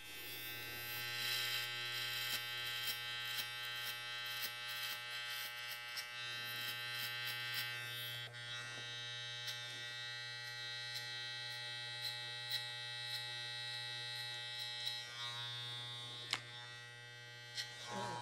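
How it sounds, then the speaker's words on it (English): An adjustable electric hair clipper, closed all the way to the 3-0 position, buzzes steadily with a strong mains-like hum while cutting hair at the bottom of a skin fade. It sounds close and continuous, with faint snips and ticks and no talk. "So we finished off with our adjustable clipper in the 3-0 position, or 3-aught position, which is all the way closed."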